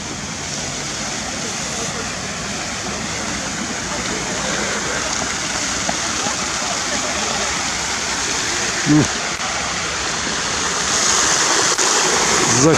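City fountain in Kharkiv splashing steadily in spring, a constant rushing wash of falling water close by, with a brief knock partway through.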